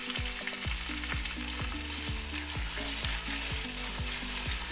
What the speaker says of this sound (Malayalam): കറിവേപ്പില കൂടി ഇട്ടേക്കാം.